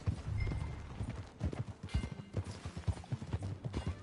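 Horse hooves clip-clop at a steady walking rhythm in Red Dead Redemption 2, a close, repeated series of thuds with faint outdoor ambience and no talk.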